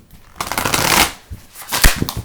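Tarot card deck of stiff card stock being shuffled by hand, brisk riffling bursts up close, alone with no voices.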